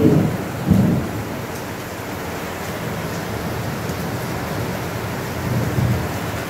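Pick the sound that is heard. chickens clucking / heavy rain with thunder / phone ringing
heavy rain with thunder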